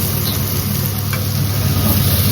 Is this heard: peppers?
yes